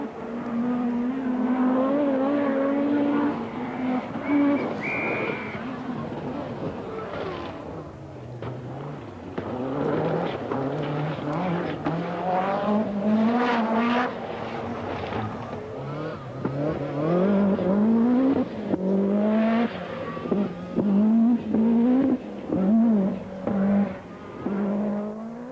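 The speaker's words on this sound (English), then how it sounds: "Into the gloaming at Wycombe comes Marco Allen and his Lancia." A Lancia rally car in the 1985 Lombard RAC Rally drives a short, hilly, twisty forest stage at Wycombe at dusk. Its engine revs loudly and continuously, climbing and dropping through the gears as it passes close by.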